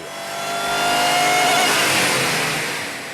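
A Mustang's 5.4 liter V8 engine, about 500 horsepower, revs steadily on a dyno, rising and then falling in pitch, loud and close, with no voices.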